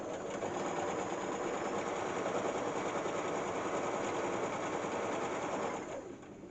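A sewing machine stitches fabric for a bread bag, running in a fast, steady mechanical chatter close by for several seconds and then slowing at the end, with no talking.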